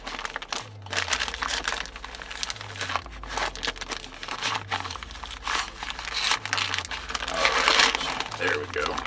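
Thin plastic vacuum-seal bag holding flour is folded over several times, giving continuous crinkling and crackling close up, with recurring soft low thumps underneath.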